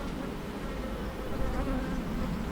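Honeybees buzzing steadily in a dense, continuous drone during an inspection of a poly beehive, close and unbroken throughout, with no talk over it.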